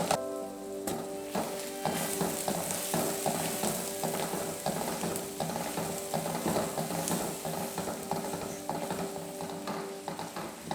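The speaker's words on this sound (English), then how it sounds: "Fry the onions for 5 minutes and 10 minutes, stirring without burning them." Chopped onions fry in hot sunflower oil and are stirred often, a steady close sizzle with repeated scraping and clicking from the utensil in the pan, without talk.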